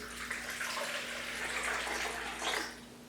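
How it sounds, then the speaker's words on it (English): Warm water pours steadily from a tap into a 4-cup measuring cup, making a close, continuous splashing rush that swells near the end. "Here's our 2 1/4 cups of warm water."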